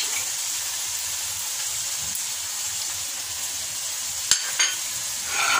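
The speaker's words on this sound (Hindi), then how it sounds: "थोड़ा सा दही डाल के हम इसको भूनेंगे" Meat frying in a pan with yogurt added, a steady low sizzle and bubbling throughout, with two brief sharp clinks near the end and the hiss rising slightly at the close.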